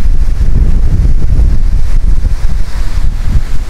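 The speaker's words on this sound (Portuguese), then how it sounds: "Diminui, mas tem bastante vento," Strong wind buffets a camera microphone outdoors, producing a loud, continuous low rumble with gusty surges throughout and no voices.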